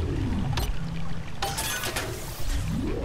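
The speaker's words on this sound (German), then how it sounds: "Da, schön Wasser verschwenden." Water pouring and splashing in the underwater city of Rapture in BioShock 2, a steady rushing flow that stays loud throughout, with low groaning ambience underneath.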